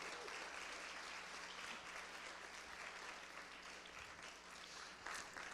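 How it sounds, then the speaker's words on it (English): A faint, distant round of audience applause for a presenter at a live-streamed talk, a steady, even wash of clapping that continues without pause. "Let's give him a round of applause."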